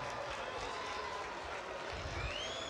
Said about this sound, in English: A round of applause for Blue Thunder.